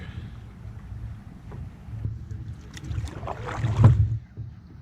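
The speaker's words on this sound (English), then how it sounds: "Quick little first paddle of the year." Swift Cruiser 14.8 canoe being paddled on open water, with soft paddle strokes and water swishes under steady wind noise, a louder splash near the end.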